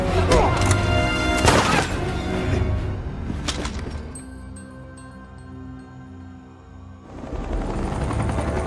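Loud thudding rotor chop of three helicopters in the Middle East, close and continuous, with a brief quieter stretch before the roar returns.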